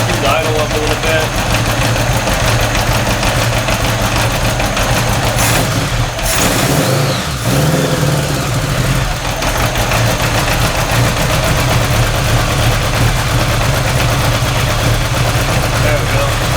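A car engine fitted with a single carburetor idles steadily after a cold start, a continuous low rumble running the whole time with a brief dip and rev midway, while a person talks over it.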